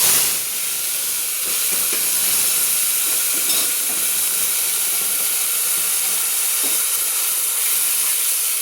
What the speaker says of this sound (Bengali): ভালো করে পেঁয়াজের পেস্টটাকে কষিয়ে নিচ্ছি, তেলের মধ্যে আমি কষিয়ে নিচ্ছি।